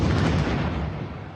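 A loud, booming explosion bursts out during a France–Germany football match at the Stade de France in Paris, then rumbles and slowly fades over a second or so, alone with no voices.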